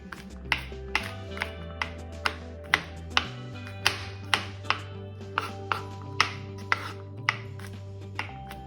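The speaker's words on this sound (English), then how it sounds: "So 6 cloves of garlic. Then I'm just going to kind of just rough chop." A knife rough-chops six garlic cloves on a board with a steady run of crisp, close taps, about two per second, over a soft background music bed.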